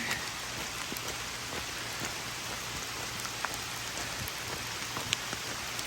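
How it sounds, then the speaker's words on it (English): Steady rain patters on a surface during a road walk near Norwich, Vermont, with scattered louder drops ticking through the constant hiss; no voices. "it's raining again."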